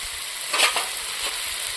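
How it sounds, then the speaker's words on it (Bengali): Chili paste drops into a pan of frying duck egg curry with turmeric, giving a steady close sizzle that swells briefly as the paste lands and is stirred in. "লঙ্কা বাটাটা দিলাম"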